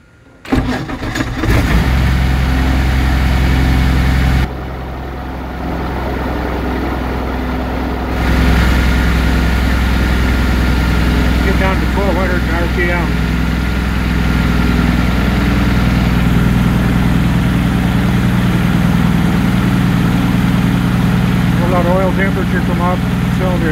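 An aircraft piston engine with a new Culver propeller cranks briefly, catches and settles into a loud, steady low rumbling idle that dips once early on. A person speaks over it now and then.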